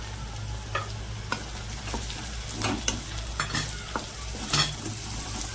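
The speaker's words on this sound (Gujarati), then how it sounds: "ગાજરને શેકી લેવાના છે" Carrots frying in a pan with onions, chillies and garlic make a steady close sizzle, broken by several sharp scrapes and clicks of a utensil stirring through the vegetables.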